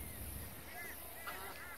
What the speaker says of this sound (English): some magpie geese just flew overhead